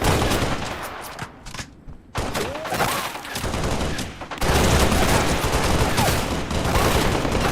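Machine gun fire in a Halo video game, dense rapid bursts that stay loud and close, with a brief lull before a sustained heavy volley takes over the second half.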